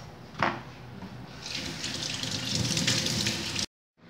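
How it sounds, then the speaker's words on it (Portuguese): Tap water runs steadily over a cooktop as it is rinsed after scrubbing with steel wool, a close, continuous splashing hiss that builds slightly before cutting off abruptly. "Agora é só enxaguar."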